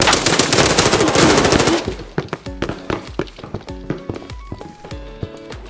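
Automatic gunfire in Arena Breakout Infinite: a dense rapid burst for about two seconds, then scattered single shots and short bursts with metallic clicks and thuds, loud and close, no voices.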